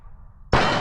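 A rifle bullet strikes a steel target at a shooting competition, ringing out as a single sharp, loud metallic clang after a short quiet lull. The impact fades briefly before the clip ends.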